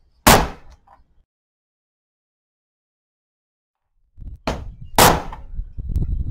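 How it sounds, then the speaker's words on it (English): A sharp metallic strike rings out alone, then after a pause two more quick hammer blows land close together on a socket seating into a Yamaha Virago XV750 case cover, amid some handling noise. "we'll get us a hammer, and we're going to thump that socket and drop that down"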